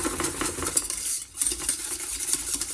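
Lemon cream stirred nonstop in a pan on a switched-off hob for cupcakes, with quick rhythmic whisking and scraping against the pan and light clinks, a faint sizzle underneath, close and steady.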